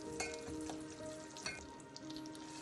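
Biryani spices sizzle and crackle in hot ghee and oil for a vegetable biryani, a steady close frying hiss with small pops and stirring clinks.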